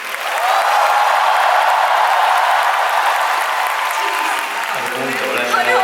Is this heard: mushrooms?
no